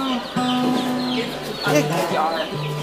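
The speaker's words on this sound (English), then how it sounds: "Big loud rooster." A rooster calls nearby with loud, drawn-out crowing, and chickens cluck around it while a person talks in the background.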